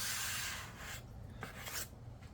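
A rag buffs epoxy into a wooden charcuterie board, giving a steady, soft rubbing rasp that fades and swells with each stroke, quiet and close with no voices.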